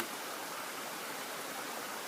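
A small stream flowing beside a campsite near Huai Yang waterfall in Prachuap Khiri Khan, a faint, steady wash of water with no voices, continuous and even throughout.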